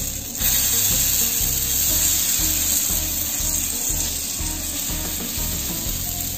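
Adai, an Indian pancake batter made with chopped onions and drumstick leaves, sizzles steadily on a hot pan, a continuous close frying hiss with faint scraping, no talking.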